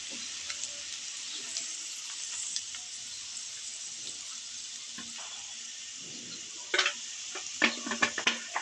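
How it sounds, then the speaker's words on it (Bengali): Half a cup of chopped onion frying in oil, a steady close sizzle throughout, with a few louder stirring clatters toward the end, no speech. "পেঁয়াজটাকে এবার তেলের সাথে ভেজে নেব।"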